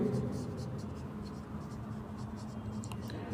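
Chalk or marker writing on a board during a chemistry lecture on coordination compounds, a faint, steady scratching of strokes beneath someone speaking.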